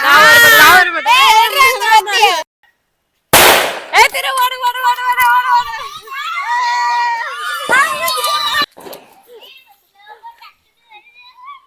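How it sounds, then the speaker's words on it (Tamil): Firecrackers burst on a street during the Karthikai festival, with two sharp, loud cracks amid children shouting and chattering close by. "இவங்க வெடிக்கிறத நிறுத்தவே மாட்டேங்கிறாங்க"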